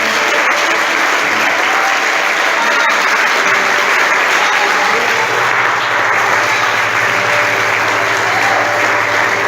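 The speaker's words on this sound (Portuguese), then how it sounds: "você pode aplaudir ao Senhor" A church congregation claps steadily and densely throughout, a dense, even wash of applause from a large crowd with no break.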